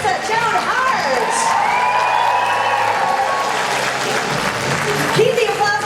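Loud sustained clapping and cheering from a packed convention audience greets the Sabrina, The Teenage Witch reunion cast in Liverpool, with whoops and crowd voices rising over the steady applause.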